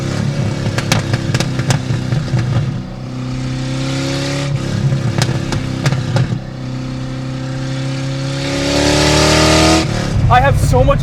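A loud, cheap Fox Body Mustang GT roars close up while driving, its engine revving hard in surges with gear changes between pulls, under steady talk.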